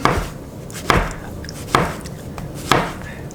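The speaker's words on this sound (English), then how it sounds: "the mushroom, I'm just gonna kind of like slice it up" A knife slices through a mushroom on a cutting board while pizza toppings are prepared, four crisp, evenly spaced cutting strokes landing close and distinct over a quiet kitchen background.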